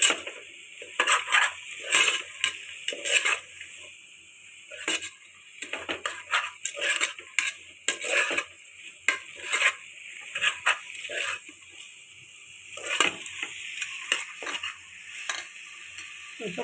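Vegetables stirred into softened onions in a frying pan while cooking pulao, with repeated metallic scrapes and clinks of a spoon against the pan over a steady background hiss, close and irregular throughout.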